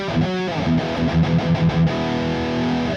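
High-gain distorted electric guitar through a Matribox II Pro multi-effects unit on a Halen 51 amp model, played as a few quick chugged notes and then a sustained ringing chord, loud and close with no talking.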